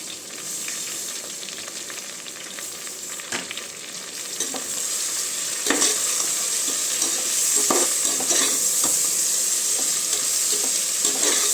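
Coriander and mint are stirred into frying onion-based chicken biryani masala in a pressure cooker, with a continuous close sizzle and intermittent spatula scrapes and clicks.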